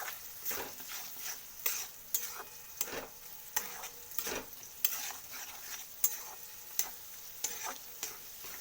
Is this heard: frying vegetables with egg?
yes